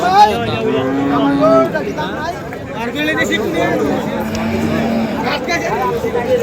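Cattle low and moo nearby at a cattle market, with several overlapping calls amid a crowd's chatter and background voices.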